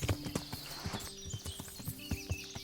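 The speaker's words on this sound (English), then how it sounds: "I should probably get off the horse." Horse hooves clop at a steady walking rhythm while riding in Kingdom Come: Deliverance, with faint birdsong and ambient forest sounds behind, moderately quiet and without talking.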